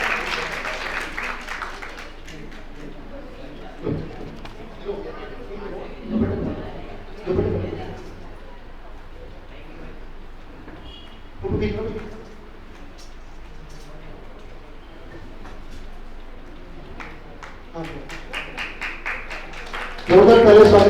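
Loud applause from a crowd welcoming guests at a ceremony, bursts of clapping rising and falling throughout, with a voice speaking over parts of it and a sharp loud burst at the end.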